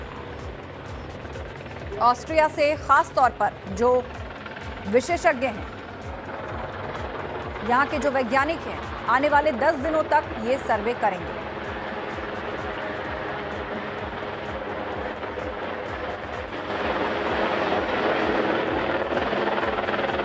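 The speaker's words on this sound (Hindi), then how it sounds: "श्रीनगर गढ़वाल में रेलवे लाइन के लिए ये हेलीकॉप्टर सर्वे चल रहा है।" Helicopter fitted with special cameras flying a railway line survey over Srinagar Garhwal, a steady rotor and engine drone running throughout, growing louder toward the end, beneath someone speaking Hindi.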